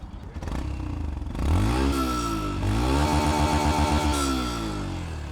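A Yamaha FZ V4 motorcycle engine runs close by with a steady low idle, then revs up and down in two rising-and-falling sweeps over a continuous mechanical clatter.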